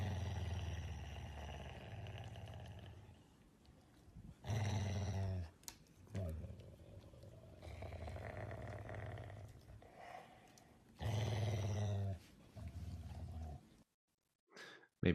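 Dogs growling while guarding a resource, a low rumbling snarl that swells in several loud bursts between quieter stretches, close by, with occasional talk.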